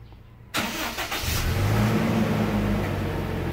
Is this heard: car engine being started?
yes